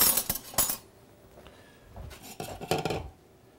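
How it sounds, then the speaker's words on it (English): Metal spoon scraping and clinking against an avocado peel and a dish while scooping out the flesh, a few close, sharp taps early, a quiet pause, then another cluster of scraping clinks. "And then we're going to just take a spoon"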